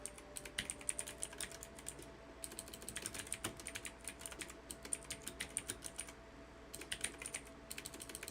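Steady computer keyboard typing in bursts of rapid clicky keystrokes with brief pauses, close and fairly quiet, while prepping a cloud security lecture; no voices.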